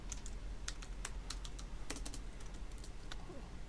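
Quick bursts of keystrokes clatter on a computer keyboard while typing into a notepad, close and crisp over a low steady hum, with no talking.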